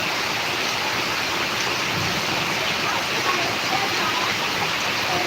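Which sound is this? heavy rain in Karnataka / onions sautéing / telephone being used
heavy rain in Karnataka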